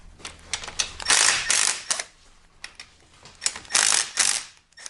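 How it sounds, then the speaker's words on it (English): A pneumatic impact wrench backs out the cylinder head bolts on a GY6 scooter engine. It fires in several sharp bursts of rattling hammering with short pauses between them, loud and close with no talking. "Again, I'm using the impact to remove, not to install"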